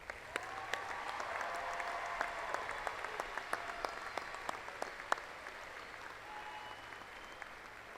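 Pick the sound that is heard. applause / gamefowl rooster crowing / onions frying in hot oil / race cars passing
applause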